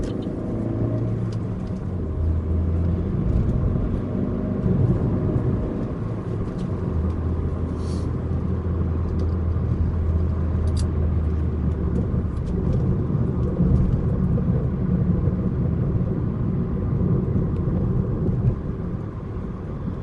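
A 1.6-litre manual Chevrolet Aveo hatchback drives steadily, its engine a low continuous rumble with road noise, rising and falling slightly as it moves through gear changes.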